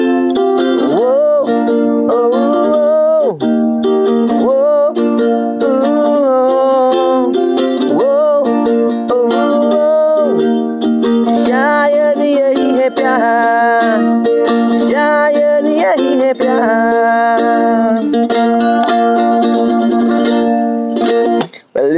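Ukulele played alone in Goa, India: a bright, steady strummed rhythm carrying a plucked melody line, loud and close, with no talking.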